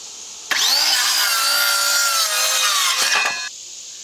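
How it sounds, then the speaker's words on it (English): A power saw cuts through a wooden board for a chicken coop conversion, one loud sustained whining cut of about three seconds that ends with a couple of short clatters, with no voices. "So I'll go ahead and get these boards cut"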